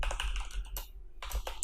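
Quiet bursts of computer keyboard typing while writing PHP code, with clusters of soft key clicks broken by a short pause before the tapping resumes.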